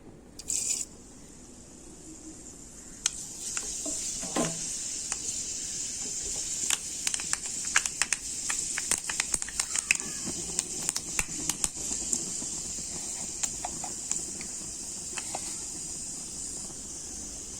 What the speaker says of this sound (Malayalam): എണ്ണ ചൂടായി നമുക്ക് അതിലേക്ക് കുറച്ച് ഉലുവ ഇടാം.